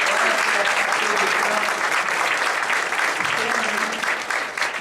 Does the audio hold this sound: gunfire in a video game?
no